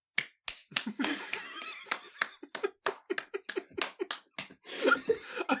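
A few people clap together in quick, sharp, irregular bursts during a lively group discussion of Lord of the Rings, close and fairly loud across the whole stretch, with laughter mixed in.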